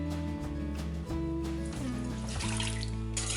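Water pours into an Instant Pot over a pork belly marinade of rice wine, soy sauce, white pepper and crushed garlic, a continuous close splashing trickle with tonal ringing from the filling pot.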